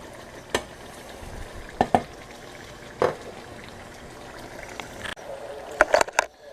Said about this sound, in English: See how the oil, now it looks like you're deep frying it.